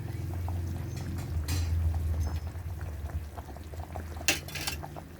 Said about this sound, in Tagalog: Kunting kulo-kulo na lang.